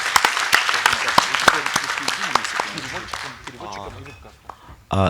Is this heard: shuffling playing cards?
no